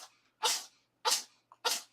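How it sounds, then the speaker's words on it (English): A pet sneezes three times in quick succession, each a sharp, close burst separated by brief quiet, with a tiny snuffle before the last one, faint overall against a silent room. "I know, sneeze, sneeze, sneeze"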